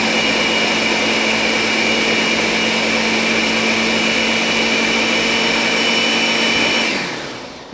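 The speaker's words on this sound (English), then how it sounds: "Now you want to do your blender on low." A kitchen blender runs on low speed mixing an egg, ham and cheese strata mixture, a loud steady motor whine that holds evenly and then winds down at the end.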